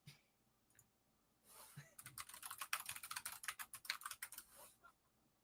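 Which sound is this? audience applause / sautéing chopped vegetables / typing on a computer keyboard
typing on a computer keyboard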